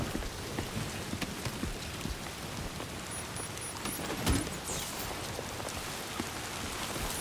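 Steady rainfall in the video game Death Stranding 2, a dense even hiss of drops pattering on surfaces, continuous and fairly quiet, with a faint low rumble partway through and no voices.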